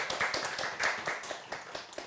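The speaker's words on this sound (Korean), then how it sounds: "네, 박수." An audience at a Korean seminar on a late Jeonju writer claps briefly. Distinct hand claps come in a quick, slightly uneven rhythm at moderate loudness, with no voices over them.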